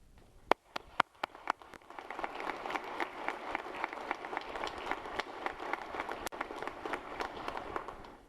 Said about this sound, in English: Please give your families a round of applause